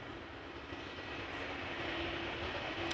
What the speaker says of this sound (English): SAS CRJ to Copenhagen is taxiing this way.